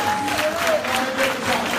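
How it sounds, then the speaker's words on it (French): A church congregation at a deliverance service in New York claps steadily, a dense, moderately loud wash of applause with some crowd voices mixed in, held for a couple of seconds. "Tu peux acclamer Dieu pour ça."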